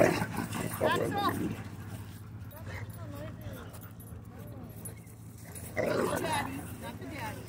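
Dogs at a dog park, including an American Bully XL and a Cane Corso, bark, yip and whimper in short bursts near and far, over a rumble of background noise and people talking.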